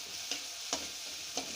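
Onions fry in a pan with ginger, garlic and chili paste for a liver dry fry, giving a steady soft sizzle punctuated by three light scrapes of a stirring spoon.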